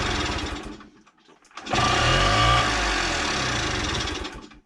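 A Honda MTX 50cc engine idles after a carburetor change with its idle screw loosened, rattling fast and buzzy, dipping and sputtering briefly before settling into a loud steady run and then cutting off.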